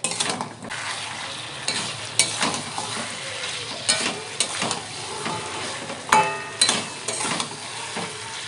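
Broiler chicken and young jackfruit sauté in oil in a pan with a steady sizzle, punctuated by scraping stirs and occasional light clinks of a spatula against the pot.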